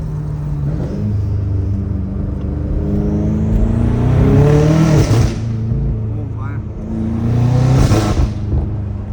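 A BMW M5 Competition engine revs up loudly twice, each rise ending in crackling exhaust pops, with a steady rumble underneath and a voice speaking in the background.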